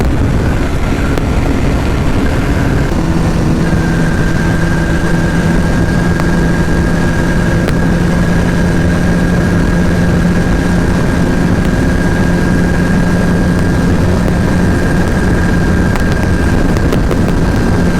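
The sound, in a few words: modified Honda CBR150R motorcycle engine while riding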